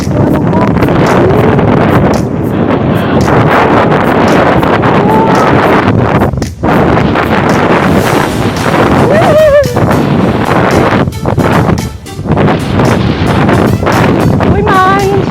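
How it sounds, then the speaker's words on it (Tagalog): Strong gusts buffet the microphone on the long footbridge at Luba, Abra, a loud, continuous roaring rush with brief lulls, while people talk and exclaim over it. "Uy, mahangin siya."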